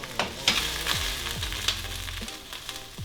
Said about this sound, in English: Right, so I just fry those up.